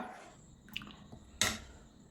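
A spoon stirs coconut-milk vanpayar payasam in a pot, making a few soft wet squelches and one brief sharper clink against a quiet background.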